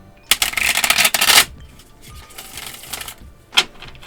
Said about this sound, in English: I want to shuffle it one more time